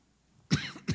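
Two quick coughs, loud and close, burst out of near silence with no talking around them.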